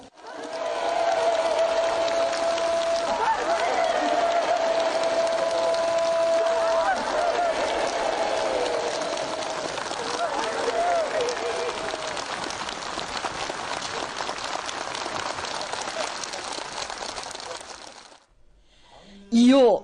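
Sustained, enthusiastic applause from a large crowd of participants at a formal ceremony, a dense, steady wall of clapping lasting many seconds before breaking off abruptly.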